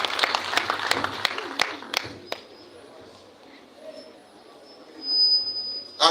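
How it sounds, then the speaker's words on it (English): At a national primary schools music, dance and drama festival final, hand claps ring out for a cathedral dean, sharp separate claps for about two seconds that then trail off into a quiet hall with faint background noise. "Let us give the man of God a very befitting hand clap."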